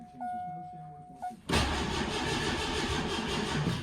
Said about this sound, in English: It started there for a second, and I was just gonna let it idle before I started giving it any gas.